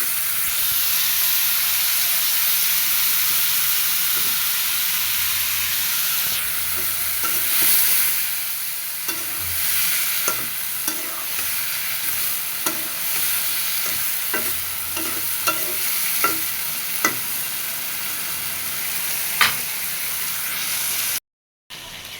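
Curry being sautéed with chilli powder and a splash of water in a pan, a steady frying sizzle with repeated scraping stirs and clinks throughout, close and loud, with a brief dropout near the end.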